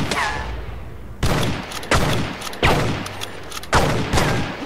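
Rifle shots in a horror film, fired at an old woman: a loud opening blast followed by four more sharp reports spaced roughly evenly, each with a short rumbling tail, no talking over them.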